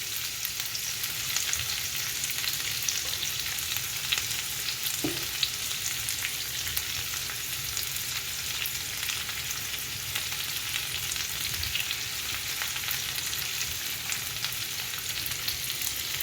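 Chopped onion, carrot, cabbage, red and green capsicum and spring onion stir-fry in hot oil for Schezwan noodles, a steady, even sizzle that stays close and constant throughout with no talking.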